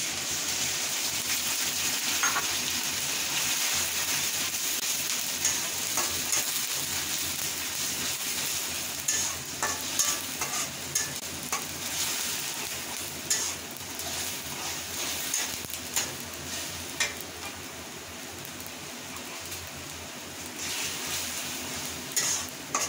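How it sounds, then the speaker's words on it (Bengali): Onion with ginger and garlic paste frying in a pan, a steady bright sizzle with scraping stirring strokes and occasional clinks of a utensil against the pan, continuous and close, growing more broken toward the end. "মাঝারি আকারে হলে আমি এখানে দিয়ে দিচ্ছি আদা, পেঁয়াজ আর রসুন বাটা"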